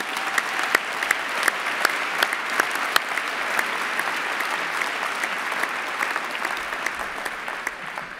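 An audience at a university postgraduate graduation ceremony claps steadily in sustained applause, with bright individual claps standing out over a dense, even wash of clapping.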